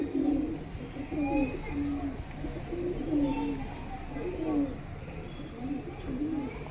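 A pigeon at a pigeon sale coos repeatedly in a regular, rolling rhythm, close and clear, while people talk nearby.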